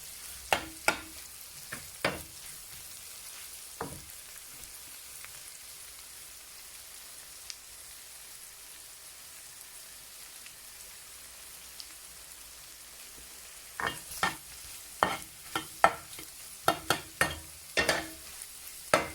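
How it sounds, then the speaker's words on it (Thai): Eggs stirred and broken up in a hot pan while frying for fried rice: bursts of spatula scraping and clattering near the start and end, with a quieter steady sizzle between, no talking. "ขยี้หน่อยขยี้หน่อยขยี้ไข่ให้มันแตกหน่อยนะคะ"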